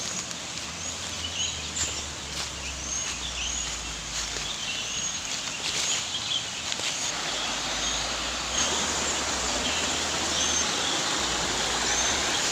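A river flows steadily beside a forest bank where a fallen loa tree lies covered in orchid moss. The rushing, even water noise is constant and fairly full throughout, with no talking.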